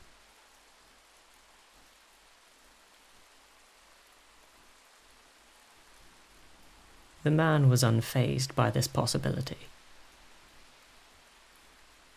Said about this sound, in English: watched the rain as it battered down on the ground